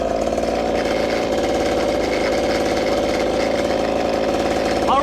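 A gas-powered 1/5-scale RC buggy engine idles close up during break-in, a loud, steady, buzzing putter with a fast regular pulse and no pauses throughout.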